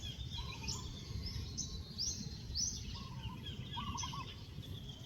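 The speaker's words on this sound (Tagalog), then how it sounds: "Dami din ganyan na ibon guys." Maya bungol sparrows in a rice field call faintly from a distance, a scatter of high chirps and short warbling notes repeating over a steady open-air hush, with no voices.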